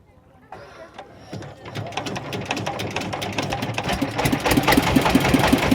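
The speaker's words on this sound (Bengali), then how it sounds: "আমাদের নৌকা স্টার্ট করা হইলো" A river boat's motor starts and builds from quiet into a rapid, loud knocking chug that grows steadily heavier and faster, with voices of passengers murmuring faintly beneath.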